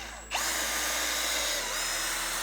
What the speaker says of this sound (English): I'm gonna use 2 of the screws that they gave me and just drill them right in